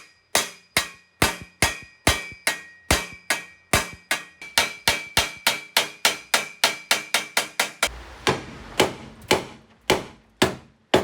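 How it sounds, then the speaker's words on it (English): Repeated sharp hammer blows ring out on a Ford Mustang Foxbody's K-member, steady and rapid at first with a faint ringing tone, then heavier, duller strikes toward the end. "I'll just smack that with a hammer"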